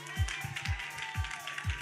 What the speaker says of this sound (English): Clap it up for Shar, y'all